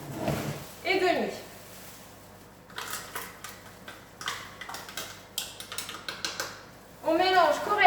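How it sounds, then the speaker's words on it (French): A wire whisk stirs a dessert mixture in a bowl, making a run of light, irregular metallic clicks and taps, with a voice speaking before and after the whisking. "On mélange correctement à l'aide d'un fouet notre préparation"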